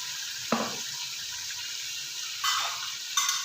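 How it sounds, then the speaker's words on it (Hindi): Water poured from a cup into a pot of soaked rice and browned chicken pulao masala, in short splashing bursts over a steady hissing background. "ये वाले मैं तकरीबन 7 कप पानी डालूँगी"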